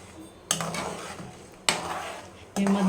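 A spoon scrapes and clatters in a pan of thick tamarind puliyogare gojju cooked with jaggery, three sharp stirring strokes over a faint sizzle.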